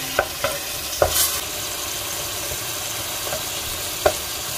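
Peeled, marinated shrimp stir-fry with garlic in a pan, giving a steady close sizzle broken by a few sharp clinks and scrapes of stirring, with no talk.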